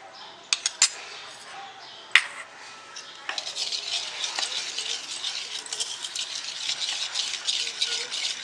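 Curd, sugar and butter beaten together for cake batter: a few sharp clinks against the bowl, then a steady, rapid whisking rattle that continues close by at moderate volume.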